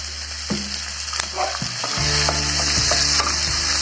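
Chopped tomatoes and onions with curry leaves and green chili sauté in hot oil for a Chettinad mushroom gravy. A loud, continuous sizzle runs throughout, broken by several sharp clinks and scrapes of a spoon stirring the pan.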